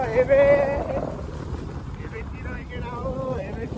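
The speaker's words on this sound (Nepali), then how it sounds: "पानी परिरहेछ हावा लगाइरहेछ हुस्सो लगाइरहेछ" Wind gusts through a rainy, fog-bound mountain outing, a steady rushing roar close to the microphone that swells at the start and then holds at a constant level, with a voice speaking over it throughout.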